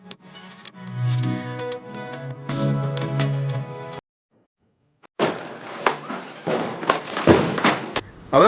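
Diwali firecrackers bursting in the evening, with sharp cracks and crackling bursts crowding the second half after a short silence, while a musical, voice-like passage fills the opening seconds.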